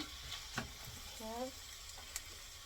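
Onion, garlic and tomato cooking in extra virgin olive oil, giving a steady low sizzle with a few light stirring clicks and a brief clank, fairly close and alone.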